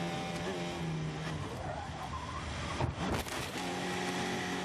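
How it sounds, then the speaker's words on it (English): A Formula 1 car from the 2016 season spins and hits the wall, heard onboard as a loud, steady engine drone with tyre squeal and a sharp impact thump partway through. "he's spun and hit the wall"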